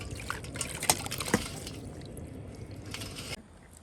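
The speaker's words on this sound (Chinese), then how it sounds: "我们再用这个热水温水啊洗一下" Beef being rinsed in warm water, with wet sloshing and splashing throughout and a few sharper splashes near the start, close and moderately loud with no talking.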